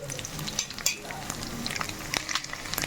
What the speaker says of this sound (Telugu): బ్రౌన్ షేడ్ అనేది త్వరగా వచ్చి ఎగ్ అనేది వేగుతుంది